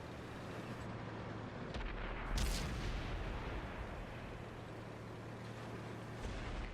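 Main gun of an M48 Patton tank firing in a single heavy boom partway through, its blast rolling and fading over steady background rumble.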